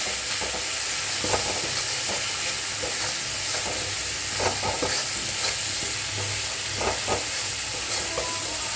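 Pomfret fish masala with salt and turmeric is stir-fried in a pan with a loud, continuous sizzle. Frequent scraping and stirring strokes ripple through it at close range.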